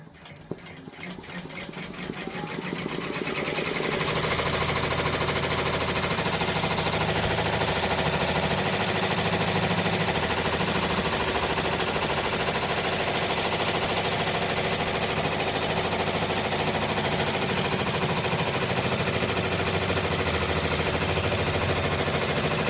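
An OESD multineedle embroidery machine stitches out a design, spinning up from a few ticks into a steady, loud, rapid mechanical chatter that holds constant and close throughout.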